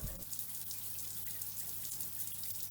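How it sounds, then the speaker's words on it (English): Water runs steadily from a Mira Advance ATL thermostatic shower during its automatic commissioning cycle, a constant hissing spray with a low mechanical hum beneath it, alone and unbroken throughout. "the water will flow for well over a minute while it's actually commissioning itself"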